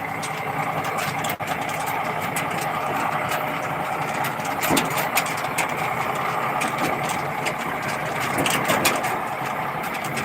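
A tractor engine idles steadily throughout on a farm, a constant low rumble with a faint knock at one point and slight surges in the sound.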